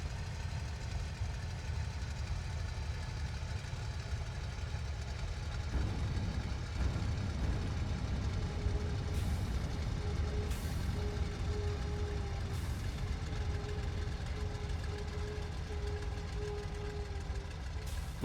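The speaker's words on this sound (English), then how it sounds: "Hear that engine? It sounds great. It's got like a turbo or a supercharger." Engine of a Macchi MC202 fighter plane with a supercharger in the flight game IL-2, a steady loud droning roar with constant rumble and a faint whine rising in pitch partway through, no talking.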